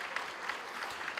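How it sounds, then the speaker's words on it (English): Audience applause at a Walter Sisulu University graduation ceremony: steady, fairly faint clapping from a crowd, sustained and even with no voices over it. "Can you give them a round of applause,"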